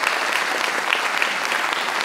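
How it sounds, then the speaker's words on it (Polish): An audience applauds at the award ceremony of the 26th Talia Comedy Festival in 2022, a steady, dense clapping that holds at an even, full level throughout. "Brawo, duże brawa."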